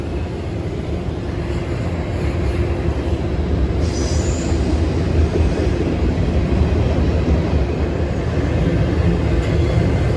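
A freight train led by two locomotives rolls past near Kenova, West Virginia, a loud continuous rumble of wheels and rail cars with faint squealing.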